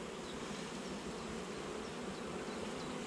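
Honeybees swarm around an open beehive during a hive inspection, their dense, unbroken buzzing close and steady throughout, with no voices.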